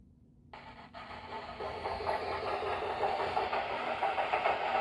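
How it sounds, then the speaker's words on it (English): A model freight train runs on the main line with a steady mechanical hum and faint rhythmic clatter, starting soft and growing louder and fuller, close by with no talking. "And we're going to run the train, so to speak."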